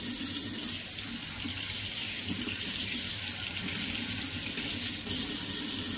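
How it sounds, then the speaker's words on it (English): Water pours steadily into a home fish tank to top it up, a continuous, close splashing and hissing stream with no pauses. "I'm trying to add some more water to my tank."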